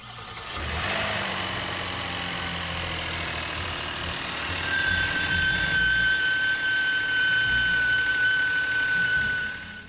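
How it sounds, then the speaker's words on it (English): A Kia Telluride engine runs through a cold start in extremely cold weather, a steady close hum joined midway by a thin, high sustained squeal that holds to the end. "some report a brief squealing noise during a cold start in extremely cold weather"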